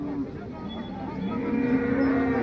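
At the Modnimb cattle market, a cow lets out one long, low moo that swells louder toward the end, close by over faint background murmur.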